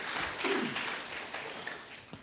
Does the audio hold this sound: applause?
yes